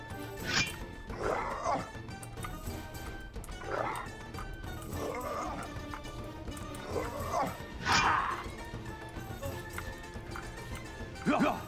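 Dogs in the video game Lionheart bark and yelp in short separated bursts, around seven outbursts spread over the stretch, set against steady game ambience and a low hum, fairly close and moderately loud.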